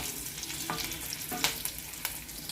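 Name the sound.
cashews frying in pan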